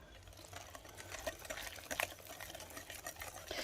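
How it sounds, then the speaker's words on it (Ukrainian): Water trickling gradually into an egg-free cake batter in a bowl, a soft continuous liquid pour with faint stirring and scraping, quiet and close with no speech. "І поступово вливаю водичку"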